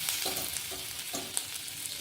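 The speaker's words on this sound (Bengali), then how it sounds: "তেলের মধ্যে আদাটা দিয়ে দেবো" Hot oil sizzles steadily as ginger is fried, with a few short scraping stirs of a utensil in the pan.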